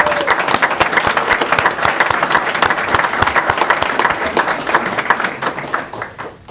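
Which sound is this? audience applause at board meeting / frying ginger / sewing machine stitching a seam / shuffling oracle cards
audience applause at board meeting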